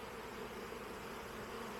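A honeybee swarm buzzing on an apple tree in an apiary, a faint, continuous droning hum with no breaks.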